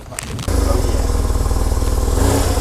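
A BMW R1100RT touring motorcycle engine settles into a steady, throbbing rumble after a brief louder burst, close by, with faint talk in the background.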